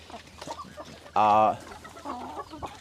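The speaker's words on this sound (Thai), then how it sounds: "บรรยากาศการให้อาหารน้องไก่นะครับ" Chickens at feeding time on a farm cluck in a busy jumble, with one loud, drawn-out squawk standing out near the middle and softer clucks scattered around it.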